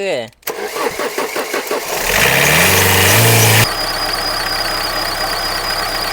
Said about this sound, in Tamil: வண்டி ஆன் பண்ணு போடா